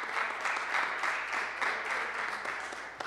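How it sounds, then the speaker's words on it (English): A church congregation claps hands in praise, a dense steady wash of many hands at moderate level throughout, with no talking over it. "let's give God a hand clap praise in the house"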